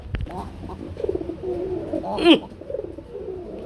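Pigeons coo at a pigeon seller's place, several soft low coos and one louder throaty coo near the middle, with someone talking intermittently around them.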